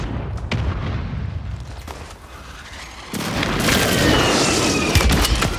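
Gunfire and explosions in Call of Duty Warzone, a dense battle din that swells after a few seconds into heavier, louder booming and crackling shots, with sharp individual reports scattered throughout.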